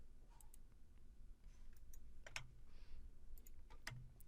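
A few sharp, faint computer mouse clicks scattered over a quiet room tone, with light keyboard-like ticks between them, while opening StatCrunch from MyStatLab; no voices.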